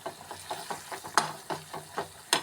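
Ginger garlic paste and coriander stems fry in oil with a soft sizzle, broken by rhythmic stirring strokes about twice a second and a few sharper scrapes.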